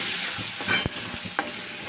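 A bharit mixture of mashed eggplant with onion and turmeric is stirred in a pan over low gas, a soft continuous sizzle broken by a few scraping spoon strokes, close and steady with no talk.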